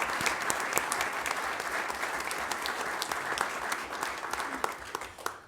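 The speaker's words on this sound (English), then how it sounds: "So let's give a big round of applause to everybody that was involved in the Turkey Drive" Sustained audience applause for Turkey Drive volunteers at a recognition event, steady dense clapping from a crowd throughout, tapering slightly at the end.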